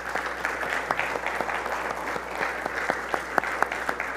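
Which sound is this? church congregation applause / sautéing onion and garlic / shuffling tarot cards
church congregation applause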